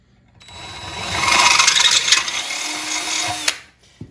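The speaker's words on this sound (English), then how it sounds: "that bit drills a really nice upsized hole in there" Drill bit boring a bolt hole out to 13/32 in a John Deere quick hitch plow extension, a steady grinding whir that builds over a few seconds then cuts off, with a short clunk after.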